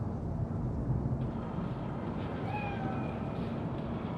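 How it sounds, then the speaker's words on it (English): A cat meows in the video game Cyberpunk 2077, a few short faint mews rising over a steady low rumbling background. "Chill, just a cat."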